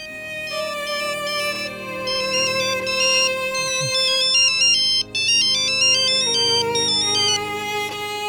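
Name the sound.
mobile phone ringtone, incoming call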